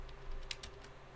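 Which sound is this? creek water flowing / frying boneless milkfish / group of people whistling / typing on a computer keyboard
typing on a computer keyboard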